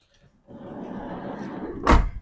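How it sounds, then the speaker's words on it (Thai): A door on a used 2018 Toyota Commuter 3.0 van is shut gently. A soft sliding rumble builds, then ends in one muffled thud near the close, heard alone in a quiet setting. "นี่เสียงปิดประตูทุกบานนะคะนิ่มๆนุ่มๆไปเลย"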